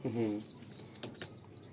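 A Madrasi pigeon gives a brief burst of wing flapping, close and fairly soft, followed by a few faint high chirps over quiet room noise.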